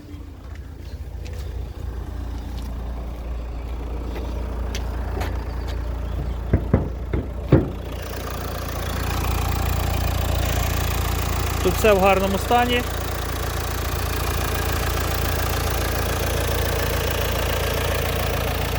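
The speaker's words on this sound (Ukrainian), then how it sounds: "Зараз дам вам послухати, як працює двигун." A 2020 Renault Kadjar 1.5 dCi diesel engine idles with a steady low rumble and knocking beneath it, after some clicks and handling noises; someone speaks briefly over it.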